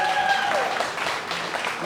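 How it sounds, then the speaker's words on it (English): Wedding guests at Rainbow Gardens in Las Vegas applaud the bride and groom in a brief, dense burst of clapping from a close crowd, with a faint tonal sound at the start. "So let's give them a round of applause."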